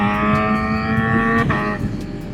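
Suzuki GSX-R 750 motorcycle with blacked-out wheels and front idling and revving up close, a steady harmonic engine drone that shifts pitch as the throttle is blipped near the end, with no talking.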